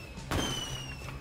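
Fireworks bursting in the video game Super Mario Wonder, a sudden loud pop followed by a crackling, whistling shimmer that fades over about a second, layered over game music.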